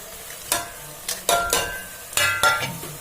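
Ground spices (coriander powder, chilli, turmeric, salt) fry in oil with onions in a pan for Bihari-style dal tadka, a steady close sizzle broken by several sharp scraping stirs of a spoon.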